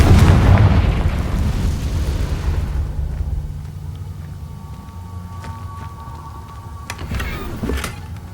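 A Confringo fire spell is cast in the game Hogwarts Legacy, bursting with a loud explosive boom that fades into a rumbling roar, followed by quieter game ambience and small clicks.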